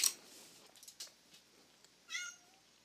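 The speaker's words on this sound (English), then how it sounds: "there's a cat in my room, and I'm going to kick her out" Faint meows from a cat indoors in a quiet room: a couple of short cries spread apart, heard alone at a low level.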